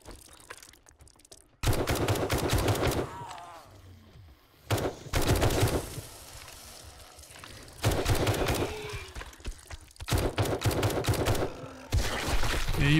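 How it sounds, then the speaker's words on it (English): Repeated bursts of loud gunfire in the 7 Days to Die survival game, several long rapid volleys separated by short quieter gaps, with someone talking faintly between them. "I gotta shoot the gun sometimes."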